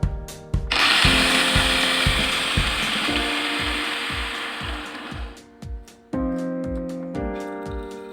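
A knife blade is ground against a sandpaper grinder, giving a steady, loud abrasive whine for about five seconds before it fades, with rhythmic background music throughout.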